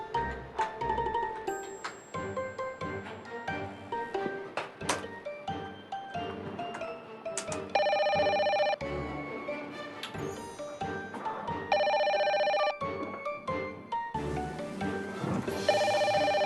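A telephone rings in bursts of bright electronic trilling, about three loud ring periods spaced several seconds apart, alongside thuds and other indoor office sounds.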